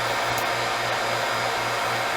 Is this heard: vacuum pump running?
yes